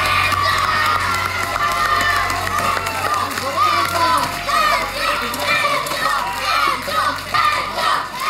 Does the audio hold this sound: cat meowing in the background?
no